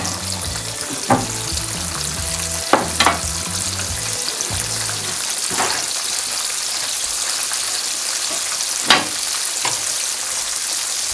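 Breaded milanesas frying in very hot oil on an Argentine street-food stall, a loud steady crackling sizzle throughout with occasional sharper pops and spatters, close up and with no talking.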